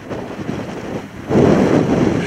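Strong wind buffets a microphone on the Gaustatoppen mountain summit in Norway, gusting in a loud, rough roar that drops briefly and then swells louder, with no voices.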